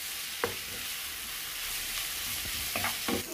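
Potato being stirred into frying masala for masala dosa, a continuous sizzle with a few distinct scraping and tapping strokes of the spoon in the pan, no voices.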